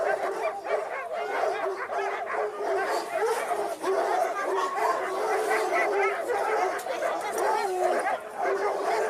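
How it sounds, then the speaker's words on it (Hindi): Several dogs bark, yip and whimper together in a Hindi comic audio drama, a busy overlapping chorus running throughout, with a voice faintly mixed in. "लेकिन कुत्ते बहुत थे।"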